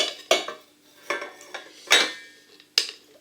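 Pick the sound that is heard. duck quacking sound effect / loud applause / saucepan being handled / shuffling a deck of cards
saucepan being handled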